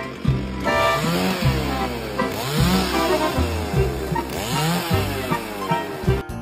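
A chainsaw runs continuously while cutting firewood, its engine loud and close with the pitch repeatedly dipping and rising as the blade bites into the wood.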